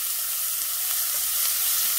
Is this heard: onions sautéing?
yes